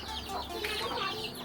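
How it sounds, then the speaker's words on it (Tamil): Chicks and hens clucking in a farm coop, a busy, continuous cluster of soft peeps and clucks close by, with no talking. "ஸோ இங்கே கோழி குஞ்செலாம் இருக்குது, நம்ம உள்ளே போகலாம்."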